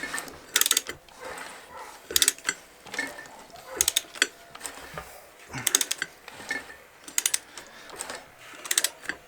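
A free junkyard engine for a VW Transporter is rotated by hand, giving repeated ratcheting clicks and mechanical clunks in uneven bursts, close up, with no talk.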